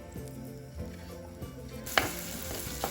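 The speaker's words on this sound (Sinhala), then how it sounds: "තෙල් එක රත් වෙනකොට අපි තලාගත්ත සුදු ලුණු ඉඟුරු ටික තෙල් එකට එකතු කර ගන්නවා" Crushed garlic and ginger frying in hot coconut oil for a clay pot fish curry, a steady crackling sizzle broken by a sharp louder burst of spitting as the paste hits the oil, close and alone.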